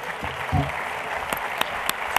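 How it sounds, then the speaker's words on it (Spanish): Audience applause at an award ceremony in a hall, moderate and fairly even, with a few sharp louder claps standing out near the end. "Un aplauso para Javier Ruiz"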